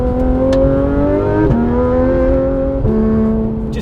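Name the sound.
Porsche GT3 RS engine revving with IPE exhaust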